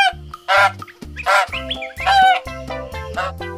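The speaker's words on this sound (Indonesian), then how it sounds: "Wow, ini ada angsa." A goose honks in several loud, bursty calls over a repeating low electronic tune, suggesting a toy animal being cleaned.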